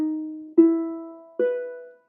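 Ukulele picking a short phrase from a song, three plucked notes that ring and decay, including a slide, played alone and close without talking.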